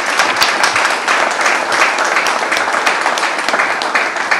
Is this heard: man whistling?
no